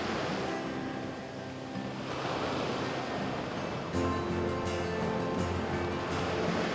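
Ocean waves breaking in a continuous hiss and rumble along the British coast, steady and fairly loud, with some wind noise and no talk.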